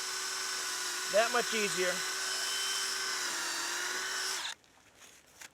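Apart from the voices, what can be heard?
power drill drilling through ice for fishing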